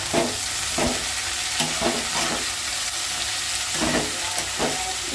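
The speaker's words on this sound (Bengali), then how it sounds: "এখানে উচ্ছে ভাজা হচ্ছে।" Bitter gourd sizzles loudly in hot oil in a home kitchen pan while a spatula scrapes and stirs it every second or so, a steady frying hiss under the repeated strokes.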